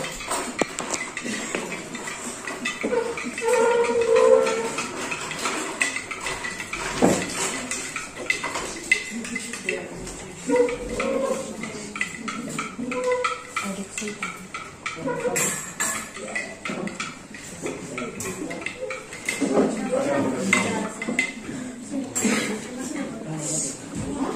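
A spoon stirs sugar into kombucha tea, giving irregular light clinks and scrapes against the container while people talk over it.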